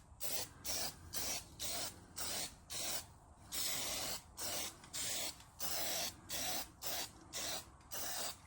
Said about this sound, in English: I can give this a quick blast with the rattle can for the primer.